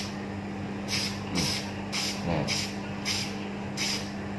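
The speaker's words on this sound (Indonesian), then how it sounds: "Cat semprot kita bisa gunakan merek apapun, kita semprotkan di sini." A spray paint can sprays onto miniature palm leaves in short, repeated hissing bursts, about six in a row, evenly spaced and close, over a low steady hum; a voice speaks briefly once.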